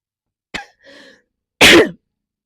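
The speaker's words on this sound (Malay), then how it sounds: "ada batuk sikit sebenarnya" A short, sharp burst is followed by a soft murmur, then one loud, harsh cough close by, all isolated with silence around them.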